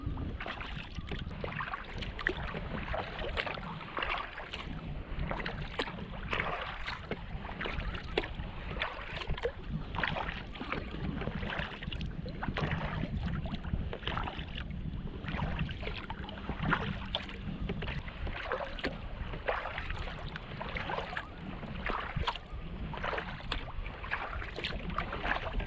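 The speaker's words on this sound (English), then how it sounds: "The wind's picked up a bit" Gusting wind buffets the microphone while a kayak moves across open water on a New Brunswick camping trip, with splashy paddle strokes and lapping water in a constant rough rush.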